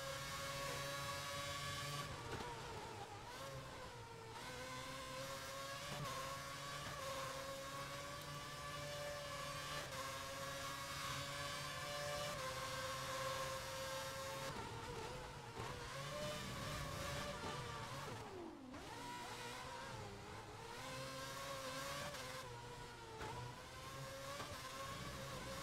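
F1 race car engines from the F1 2011 video game whine continuously at high revs, pitch rising and falling with gear changes, with a sharp dip and recovery near the end and no talk.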